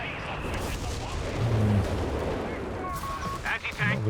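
Bishop self-propelled artillery firing in a Company of Heroes 3 battle: heavy booming shots and rumbling impacts mixed with other battlefield game sounds, with brief tonal effects and a voice-like sound near the end.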